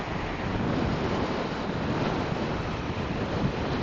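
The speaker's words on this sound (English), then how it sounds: "A little windy." Wind blowing outdoors on a breezy day in Kentucky, a steady loud rumbling roar buffeting the microphone without a break and with no voices.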